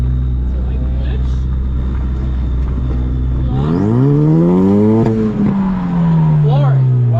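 A Ford Fusion at a drifting competition idles steadily, then its engine revs up hard through rising and falling pitch sweeps, loud and close, with a voice talking over it.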